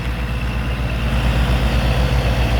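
A farm tractor's hot-running engine on a field during second-crop work, a steady low rumbling idle with a rhythmic throb, close and fairly loud throughout, no voices.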